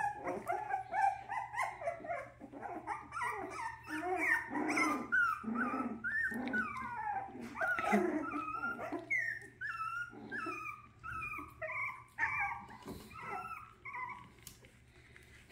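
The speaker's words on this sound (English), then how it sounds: "Are you guys growling at each other?" Young puppies in a litter growl, whine and yip at one another in close, busy bursts of small voices that continue throughout, with little pause between squabbles.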